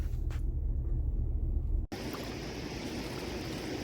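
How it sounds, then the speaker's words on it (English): Water rushing over a dock beside a dam, a steady broadband roar of flowing water heard up close, briefly interrupted by a sharp dropout before the wash resumes, with no voices. "Here you can see the water rushing over this dock"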